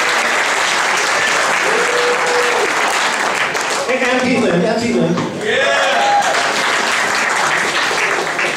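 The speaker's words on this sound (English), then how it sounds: "she'd like you to give her a big round of applause" Audience applause for Shirley Cecil at a family music hour, a steady broadband wash of clapping lasting throughout, with a host talking over it in the middle.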